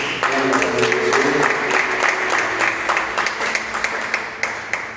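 A church congregation applauds, the steady clapping of many hands filling the room without pause, sustained and fairly loud with no talk over it.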